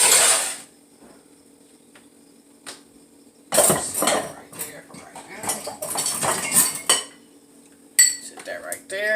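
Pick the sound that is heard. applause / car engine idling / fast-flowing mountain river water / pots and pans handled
pots and pans handled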